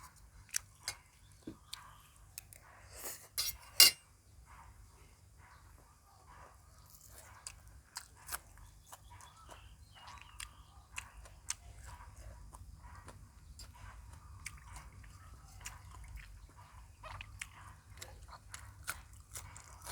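Someone eats Thai chicken rice with hot soup, producing faint, close-up chewing with small wet clicks and soft crunches in an otherwise quiet room, with no talking.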